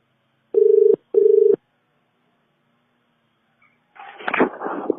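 Two long electronic telephone ring bursts sound close and loud, separated by a short gap, followed by silence and then a burst of indistinct voice or line noise near the end.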